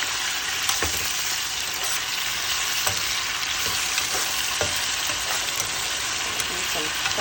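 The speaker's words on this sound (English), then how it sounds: "Some red pepper, gonna fry that up." Tomato, onion, hot pepper and red pepper fry in a pan for a Jamaican salt mackerel breakfast, giving a loud, continuous close sizzle with occasional stirring clicks and scrapes, no voices.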